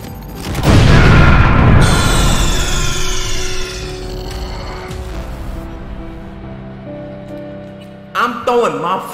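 Grenade blasts in the video game Cyberpunk 2077: a heavy, booming explosion bursts out early and rumbles on with debris and game noise, then a second sharper burst lands near the end, with a voice talking underneath.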